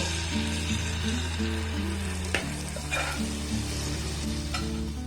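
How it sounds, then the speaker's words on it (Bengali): Carrot malpua sweets frying in hot oil, a loud, continuous sizzle with a steady low hum underneath and an occasional brief clack of a utensil. "একইভাবে সবগুলোকে আমি খুব সুন্দর করে ভেজে নেব"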